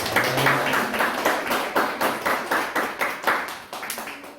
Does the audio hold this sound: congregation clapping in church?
yes